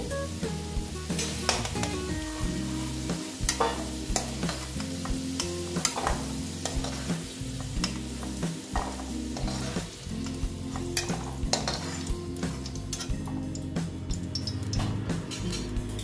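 Banana flower fries in oil in a pan for a mochar ghonto, browning to a reddish colour while being stirred: a steady close sizzle with frequent clattering scrapes and taps of the stirring utensil, no voices.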